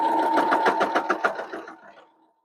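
A sewing machine stitching quilt fabric runs at a fast, steady hum with a rapid needle rhythm, close by, then slows and winds down to silence within about two seconds.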